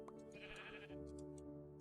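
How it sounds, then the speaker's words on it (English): A sheep in the video game TerraFirmaCraft bleats once in a wavering, drawn-out call, fairly close and clear, followed by faint soft ticks, with no talk. "we got rid of this noisy sheep compound in the middle"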